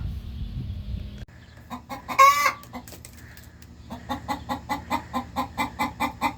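A backyard hen named Marshmallow clucks after laying her egg, loud and close, first in a few irregular squawks and a brief raspy cackle, then in a steady rhythmic run of repeated clucks.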